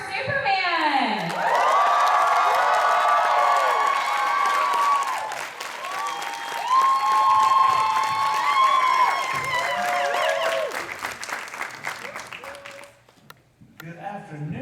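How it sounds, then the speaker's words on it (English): Fan expo crowd cheering and whooping loudly for a Superman actor guest, high excited voices and applause sustained for over ten seconds before fading, with brief voices near the end. "Let me give a big cheer for Superman."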